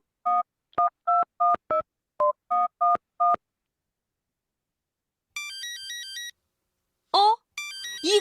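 Phone dial tones beep in a short series of eight keypad presses, followed by a bright electronic ringtone melody that starts, pauses, and plays again, loud and clear.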